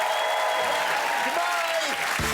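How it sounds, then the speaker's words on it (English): Taskmaster studio audience applauding, a brief, loud burst of clapping under a voice talking over it. "Please clap your hands together once more for today's winner, Mr. Joe Lycett!"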